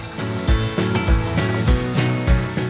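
Shanghai noodles sizzle and hiss in a hot wok with egg while a spatula scrapes and tosses them in a steady rhythm, roughly twice a second, close up.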